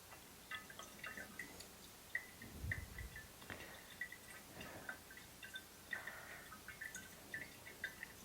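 Old gasoline drains from a stored generator, falling in sparse, soft drips that land in an irregular rhythm, faint and close, with no talk over them.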